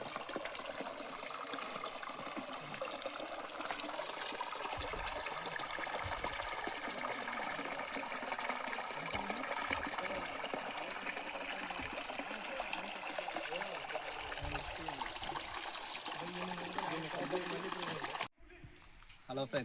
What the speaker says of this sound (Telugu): వాటర్ ఫ్లో పై నుంచి ఇక్కడ కింద దాకా వస్తూ ఉంది.